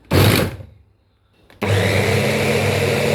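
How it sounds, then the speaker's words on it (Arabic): Electric chopper mincing onion, a loud motor whir in a short burst, a brief pause, then a second sustained run at a steady, close, even drone. "اول حاجه انا جبت البصل معايا اهو، هقطعه واحطه في الكبه، هفرمه فرم ناعم."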